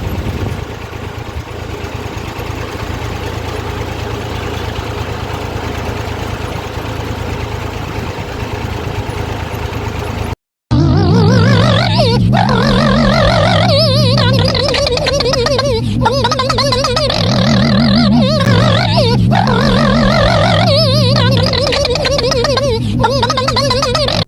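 A farm tractor's engine runs in a village setting, first as a steady low idle hum, then after a brief break as a louder, rougher throbbing with shifting pitch, close to the listener.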